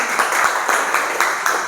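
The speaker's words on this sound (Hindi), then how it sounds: "ताली बजा दीजिए इनके लिए एक बार।" A small audience claps briefly for a participant during a training session, a short burst of close, steady applause.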